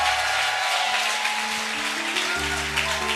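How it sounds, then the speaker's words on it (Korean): A congregation applauds during a New Year's Eve church service: a broad wash of clapping under sustained keyboard chords that shift pitch, steady and moderately loud throughout. "우리 주님께 영광의 박수 올리겠습니다"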